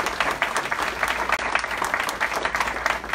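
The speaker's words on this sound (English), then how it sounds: "So one more round of applause." A steady round of applause from an audience for a panel discussion at the Dixie Crossroads restaurant, dense continuous clapping that holds at an even loudness throughout.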